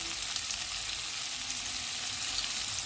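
Chilli chicken frying in a pan with black pepper, red chilli powder and salt, giving a steady, even sizzle that runs unbroken and fairly quiet, with no voices.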